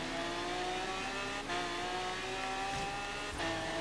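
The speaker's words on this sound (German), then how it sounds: "Der Sound vom V12 von Lambo. Haben sie im Spiel echt gut hinbekommen." A Lamborghini V12 engine revs in the racing game Forza Horizon 3, a loud, sustained engine drone with rising and falling pitch and brief shifts, alone without talk.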